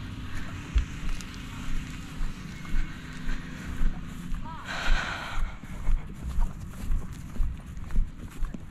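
A horse walks at a schooling show with a rhythmic, steady clip-clop of hooves, recorded up close from the rider's position, while a person talks now and then over the hoofbeats.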